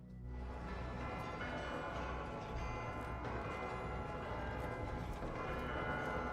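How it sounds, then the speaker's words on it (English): Several bells in a sci-fi game ring together in a dense, continuous clangor, a loud wash of overlapping tones that holds steady throughout with no speech. "Well, all the bells are ringing."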